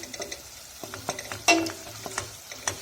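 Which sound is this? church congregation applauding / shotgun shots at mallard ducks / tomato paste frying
tomato paste frying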